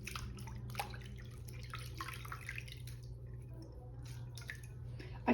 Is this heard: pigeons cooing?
no